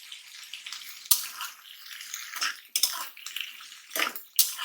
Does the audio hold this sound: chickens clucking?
no